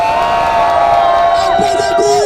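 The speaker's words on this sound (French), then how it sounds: "Alors applaudissez pour vous-même. Un peu de bruit." At a Guinean protest rally in Belgium against a constitutional change, a loud crowd cheers and shouts continuously, with sustained voices and whoops filling the whole short stretch.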